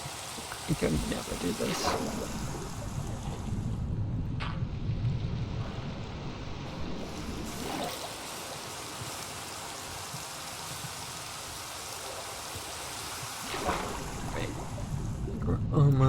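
Rain in the modded Minecraft game TerraFirmaGreg falls as a steady, soft hiss throughout, with a few louder swells. Someone speaks briefly over it.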